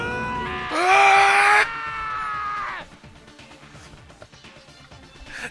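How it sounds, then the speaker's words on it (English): A piercing scream in the Danganronpa video game rises sharply and loudly for under a second, then a sustained groan-like tone lingers before fading into quieter game background sounds. "Hey, I heard screaming!"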